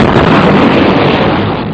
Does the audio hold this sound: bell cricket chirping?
no